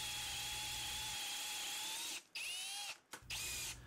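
A power drill with a 3/8-inch bit bores out a stud on an Atomic 4 marine engine cylinder head, a steady high whine that stops briefly twice near the end before starting again, close up with no talking.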